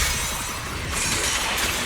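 A shattering attack in the video game Zenless Zone Zero bursts as a loud, dense crash of breaking glass and crackling debris that fills the mix without letup.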